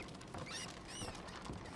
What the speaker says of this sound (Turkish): Fare sesi de.